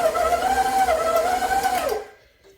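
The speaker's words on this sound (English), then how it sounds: "My mixer is starting to say, hey, this is getting thick." Electric mixer straining on a thick candy mixture, a loud motor whine that dips in pitch as it labors, then cuts off, leaving near silence.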